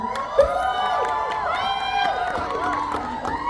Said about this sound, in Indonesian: tepuk tangan dong untuk Fonti sebagai penulis